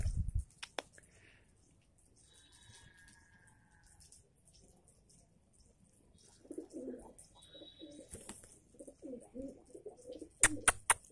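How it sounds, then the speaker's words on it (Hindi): Soft, low cooing of pigeons close by as they eat pieces of gulab jamun, a cluster of murmured calls, with occasional light taps and rustles in a quiet setting. "देसी गुलाब जामुन खाते हुए कबूतर"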